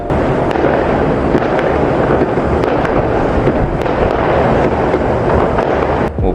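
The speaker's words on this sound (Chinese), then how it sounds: "外面还在放烟花。" Fireworks go off outside past midnight, heard as a dense, continuous crackle of bursts and sharp pops over a low rumble. No one speaks.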